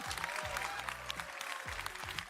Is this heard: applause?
yes